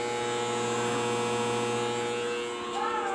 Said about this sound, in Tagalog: Continuous yung blower niya.